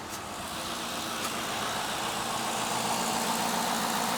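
A Cadillac engine runs at a steady, even idle after a vacuum leak repair that cured its misfire, a constant mid-range hum with no surging, heard up close and alone.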